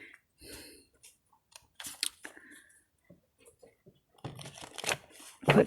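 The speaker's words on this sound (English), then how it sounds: "Quick shuffle here." Tarot cards being shuffled by hand in a reading, heard as scattered riffling and flicking bursts with a louder rush near the end, with quiet voice sounds between.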